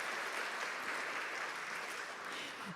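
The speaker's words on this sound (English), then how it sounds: "I think they deserve a big round of applause" Quiet, distant round of applause from a gathered audience at a monthly program, a soft steady wash of clapping that holds through and starts to fade at the end.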